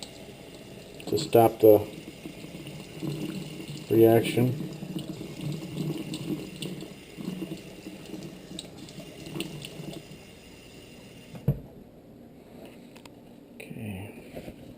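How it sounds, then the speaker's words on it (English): Cold tap water runs over a Mora Companion knife to rinse off vinegar after a patina soak, a steady splashing stream under a voice that fades near the end. "we're going to rinse off the vinegar here with cold water"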